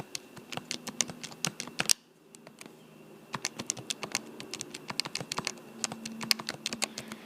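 Keys on a graphing calculator are pressed in quick irregular bursts while lists are entered, crisp close clicks with a brief pause near two seconds before rapid tapping resumes.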